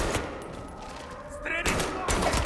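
Gunshots in Mafia: Definitive Edition, a few sharp bursts spaced apart with slow gaps between shots, heard under someone talking over the game.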